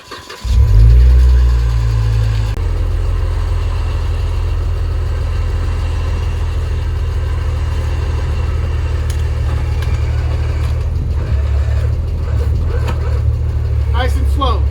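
An off-road Jeep engine starts up with a loud surge, then runs steadily at a low, heavy idle with slight revving, close by on a rock-crawling trail in San Bernardino National Forest.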